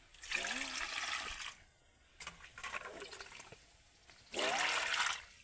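Ash gourd pieces sloshed and rubbed by hand in a bucket of tap water to rinse off lime, giving two loud bursts of splashing with a quieter trickling stretch between them.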